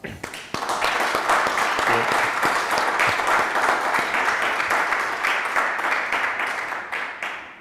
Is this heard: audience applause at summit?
yes